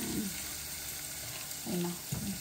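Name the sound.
potatoes frying in a pan with coconut oil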